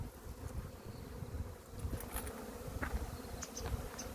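Hornets buzzing and flying around the front of a beehive, a continuous dense insect drone with occasional closer passes, heard alone outdoors at moderate volume.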